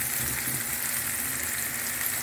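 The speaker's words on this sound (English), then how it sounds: "at this time I'm going to be adding my vegetable. I like to fry for just few minutes" Vegetables for an egg sauce sizzle and fry steadily in a hot pan, a continuous loud crackling hiss with no talking.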